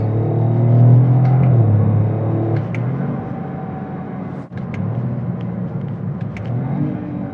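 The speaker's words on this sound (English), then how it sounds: "And the downshifts get all the way up to the high RPM part of it." A 2025 Toyota GR Corolla with an 8-speed automatic revs hard, its engine droning loudly and swelling as it downshifts to high RPM, with a brief dip at a shift before the rumble picks up again.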